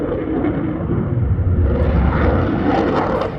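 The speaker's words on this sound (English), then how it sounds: "he would intentionally put it in afterburner just so that we would get the full effect of this incredible fighter" A fighter jet with vectored thrust roaring past on afterburner at an airshow at Oshkosh, a loud, sustained broadband rumble that swells slightly as it passes.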